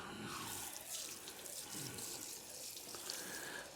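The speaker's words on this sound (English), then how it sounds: "let's put some water on it and see what it looks like" Water poured and splashing over a stone pillar cap set with green glass and red aggregate, a steady close trickle and spatter running on without pause and with no talk.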